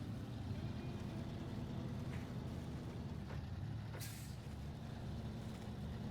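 A heavy truck in the off-road driving game SnowRunner rumbles steadily with a low diesel drone throughout, with a short hiss of air brake release near the end.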